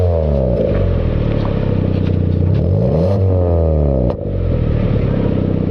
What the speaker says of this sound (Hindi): तो एक बार आपको एग्जॉस्ट की आवाज़ जरूर सुना देते हैं भाई